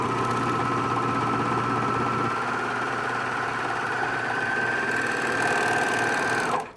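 Serger sewing machine running at speed, a loud continuous buzzing whir with a steady mechanical drone that holds for several seconds, then cuts off abruptly at the end.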